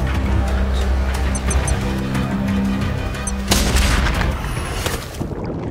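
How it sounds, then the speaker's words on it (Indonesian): Sniper rifle gunshots in an action film, several sharp booming shots ringing out over a dense, rumbling background, one especially loud crack near the middle. "Dan untuk tembakan yang kedua, Jekyll berhasil menembak Charles tepat ke arah babato kepalanya"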